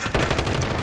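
Rapid video game gunfire, a fast run of close, loud shots in steady rhythm with no pause.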